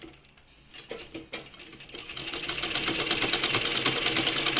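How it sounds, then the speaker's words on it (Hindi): A sewing machine stitches along the edge of a shirt placket, starting with a few short separate bursts and then running in a steady, fast mechanical patter that grows louder, close up. "किनारे की सिलाई लगाएंगे"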